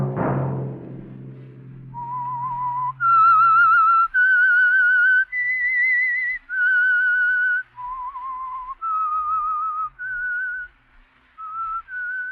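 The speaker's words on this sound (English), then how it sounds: "Let that whistle be your signal" After a low ringing note fades, someone whistles a slow, clear melody, the signature whistle of the old radio drama The Whistler, one sustained note after another with short gaps between.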